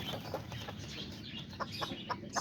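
Kikiriki and Azteca chickens and roosters clucking, faint soft clucks repeating in a loose rhythm over low background noise.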